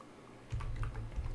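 Keys clatter on a computer keyboard as Excel VBA code is entered, a quiet run of soft, uneven taps close by with no voices.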